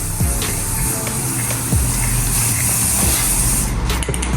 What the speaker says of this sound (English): To spray it, go.